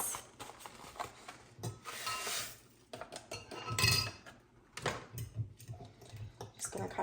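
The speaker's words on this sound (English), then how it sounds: "Just gonna kind of mix that together so you can dissolve the powders." Onion soup mix being stirred into chicken-flavored broth in a crock pot, soft irregular clinks and scrapes of a utensil against the pot, fairly quiet with pauses.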